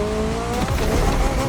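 A McLaren Elva, the most exclusive Ultimate Series roadster, drives in The Crew Motorfest, its engine a steady close roar with tire squeal and skidding textures throughout, with no talking.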